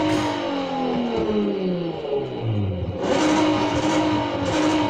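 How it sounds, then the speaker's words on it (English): A 1977 Pontiac Firebird in the video game Need for Speed Heat revs and drones steadily through an aggressive exhaust setting, pitch sweeping up and down through gear changes, loud and continuous with no one talking. "If you want the exhaust sound that I have,"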